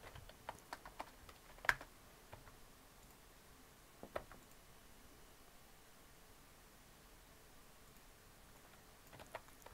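Quiet typing on a computer keyboard, scattered soft key clicks in small irregular bursts with a few sharper taps, set against a faint hiss of room noise and no talking.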